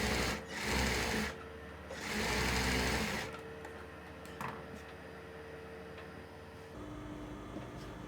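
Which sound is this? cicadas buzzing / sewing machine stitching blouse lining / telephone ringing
sewing machine stitching blouse lining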